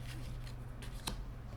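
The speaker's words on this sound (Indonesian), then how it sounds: "Tarotku ambil 3 buah kartu." Tarot cards shuffled and drawn from a spread deck, a brief papery riffle with a sharper slap near the end, close and moderately quiet over a steady low hum.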